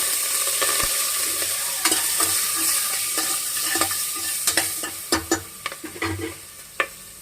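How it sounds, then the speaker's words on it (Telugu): Green chillies frying in hot oil with mustard seeds, fenugreek, dried red chilli and asafoetida, a steady close sizzle broken by sharp crackles and pops that grow more frequent toward the end. "ఇప్పుడు పచ్చిమిరకాయలు వేసుకుంటున్నాను"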